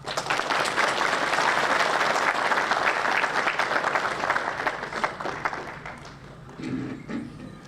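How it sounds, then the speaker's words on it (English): A crowd gives a speaker warm applause at a memorial gathering for Hazara genocide victims at a cultural centre in Perth. Dense, sustained clapping fills the room and then fades to scattered claps as a voice starts to speak. "Please join me in welcoming him with a warm round of applause."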